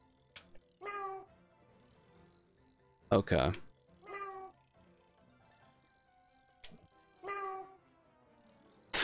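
Laser cats in the video game Guts and Glory give several loud, synthetic meows that repeat at intervals, mixed with a sharp burst of noise and a brief spoken word.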